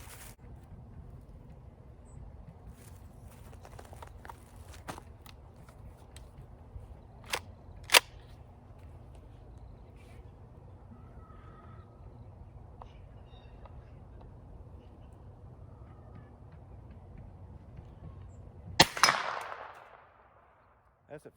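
A gun fires at a target 45 yards away outdoors, with a few faint sharp pops over a quiet, low background, followed near the end by one loud, close crack with a short ringing decay.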